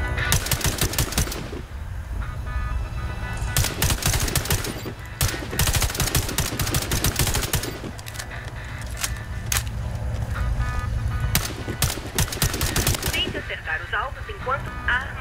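Bursts of rapid rifle gunfire from the video game Warface during a training level, loud and repeated in several volleys with short pauses between them.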